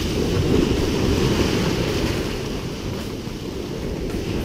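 Choppy ocean surf breaking on a beach at night while surf fishing in Destin, heard as a steady, loud roaring wash with wind buffeting the microphone and no talking.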